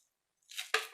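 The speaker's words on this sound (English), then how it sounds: "Let's roughly cut the spring onions" A kitchen knife roughly cuts spring onions on a board, a soft brushing slice followed by one sharper chop, close and quiet with nothing else around it.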